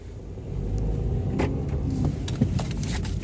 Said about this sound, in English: I'm about to put it on the road, give it a little gas, see what it feels like.